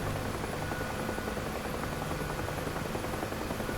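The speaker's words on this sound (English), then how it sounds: "I've got an opportunity to just chill out with some low level flying in a helicopter" A UH-1H Huey in DCS flies low with a loud, continuous rotor chop and turbine roar that stays dense and constant from start to finish.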